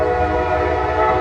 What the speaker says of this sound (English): The sounds of trains are synonymous with East Palestine